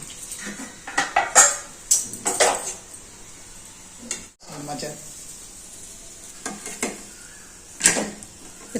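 Cabbage stir-fried in a little oil in a pan, scraped and pressed with a spatula in clattering bursts over a soft sizzle, utensil knocks against the metal close by.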